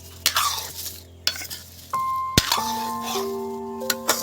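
Cloves being stirred into tomato sauce in a pan, with soft sizzling, a few sharp utensil knocks and a ringing metallic clink against the pot, close and fairly quiet.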